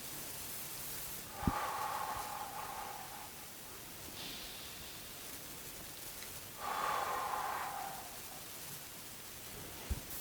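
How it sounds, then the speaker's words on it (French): Slow breathing exercise with deep abdominal inhales and long exhales blown out through the mouth, two breath cycles heard up close as soft airy rushes, with brief taps between them. "on va inspirer tranquillement en gonflant le ventre et on va souffler par la bouche en rentrant le ventre"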